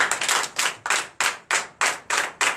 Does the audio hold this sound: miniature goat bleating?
no